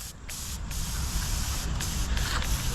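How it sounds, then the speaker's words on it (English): A small handheld pump sprayer mists down rubber concrete stamping mats on a 30-yard stamped patio pour, giving a steady close hiss that runs unbroken for the whole stretch, with a few brief bright bursts of spray. "I'll get one of these little handheld sprayers to spray these mats down."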